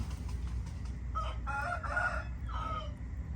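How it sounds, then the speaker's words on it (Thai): A rooster crows from a distance in a quiet garden, a single drawn-out call rising and falling over low background rumble. "ไก่ก็เริ่มขันครับ"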